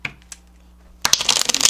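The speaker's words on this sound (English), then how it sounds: "So you can also shuffle laminated cards," Glossy laminated playing cards being riffle shuffled: after a near-silent second with a couple of faint taps, a loud, close burst of rapid crisp flapping and clicking runs to the end, with no voices.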